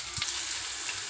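Carrot and beetroot pieces dropped into an onion tempering for a curry, a loud, close, hissing sizzle with a faint stirring knock, lasting about a second and free of voices.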